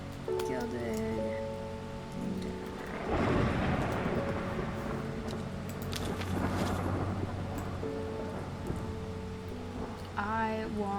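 Thunder from a storm in the video game Strange Horticulture rolls in as two broad rumbling surges over a steady rain-like hiss, mixed with a calm musical score.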